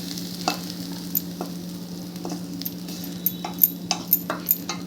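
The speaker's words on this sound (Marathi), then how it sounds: "तर आपला आता इथं मसाला चांगला फ्राय झालाय" Dhaba-style egg masala spice paste frying in a pan, with a steady low sizzle and a series of scraping stirs that come closer together toward the end.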